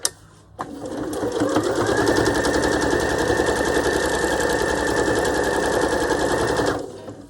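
A sewing machine free-motion stitches fabric for flow-stitched autumn-coloured journal cover work, starting after a brief pause and running fast with a steady rapid needle clatter for about six seconds before stopping.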